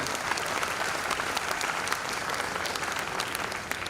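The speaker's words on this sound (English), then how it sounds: "let's put our hands together for a big round of applause for Swamiji." A large audience applauds Swamiji at a college engineering induction ceremony, a dense continuous roar of clapping at steady volume throughout.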